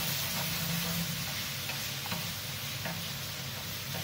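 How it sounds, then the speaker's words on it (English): Chopped tinned tomatoes cooking in a wide paella dish, giving a loud, continuous sizzle and bubble with a few faint ticks and scrapes of stirring, and no talking. "Let those tomatoes start cooking."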